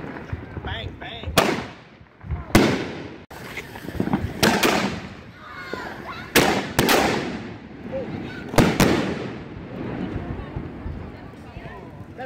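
Fourth of July fireworks burst in a series of loud, sharp bangs spaced a second or two apart, each with a rumbling tail, while people talk and react in the background.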